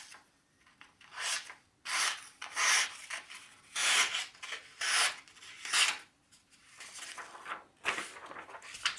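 A Böker P08 Damascus dagger slices through material in a series of repeated rasping, scraping strokes, about eight distinct cuts with short pauses between them, close and fairly loud with no talking.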